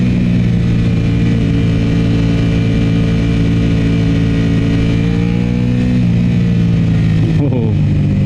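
An Aprilia RS 660 sport motorcycle fitted with an UpMap tune holds a loud, close engine drone with strong steady harmonics that shift and bend near the end as the revs change.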